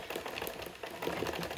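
A sewing machine runs a short back stitch while a bodice block is transferred to fabric, giving a quick mechanical whir with rapid needle pulses, close up and steady, with a brief pause partway through.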